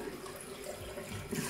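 Tap water runs steadily into a sink while someone washes their face, a soft continuous splashing stream with a slight swell near the end and no talking.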